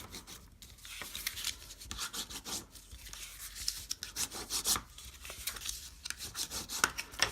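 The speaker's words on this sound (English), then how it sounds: "I'm going to burnish my edges." Folded paper card edges being burnished, a soft close rubbing and scraping that repeats in short uneven strokes, quiet with no talking.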